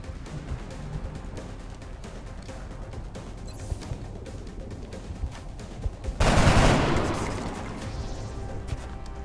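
Gunfire from the video game XCOM: Enemy Within, with a burst of loud shots late on that decays quickly, over a steady game soundscape.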